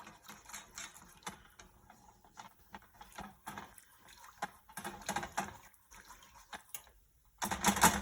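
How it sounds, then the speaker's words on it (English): Whisk working roasted garlic alfredo sauce in a pan, a quiet, uneven series of soft clicking and patting strokes across the whole stretch, growing louder and denser right at the end. "And just keep whisking, it will come together."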